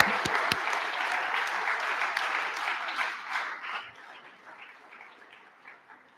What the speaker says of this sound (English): So a round of applause to all of us.